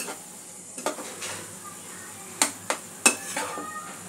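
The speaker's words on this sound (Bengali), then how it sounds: "ছানার পুরটা একটু ভাজা ভাজা হবে, সমস্ত মশলার সাথে একটু ভালো করে ভেজে নিতে হবে।" Chhana filling with spices fries quietly in a pan, a soft sizzle punctuated by a few sharp clinks and scrapes of a spatula against the pan, with no voices.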